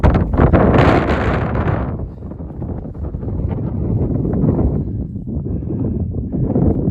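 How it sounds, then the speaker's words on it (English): Strong wind buffeting a microphone on an exposed mountain ridge top in the Black Mountains, a loud broadband roar with gusts easing after the first two seconds, steady and close throughout. "it's quite windy"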